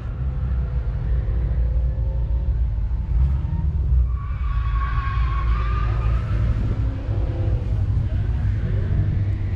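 A deep, steady truck engine rumbles up close throughout at the Holley MOPARTY 2023 car show, with a faint higher whine rising and falling over the low drone.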